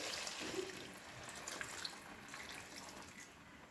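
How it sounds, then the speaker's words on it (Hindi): Water runs steadily into a pan of ghee-fried pumpkin and black chickpeas, a soft continuous trickle and splash that is fairly faint and stays alone without speech. "अब इसमें हम डाल देंगे थोड़ा पानी।"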